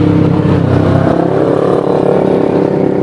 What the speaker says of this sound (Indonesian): Knalpot gue custom ini.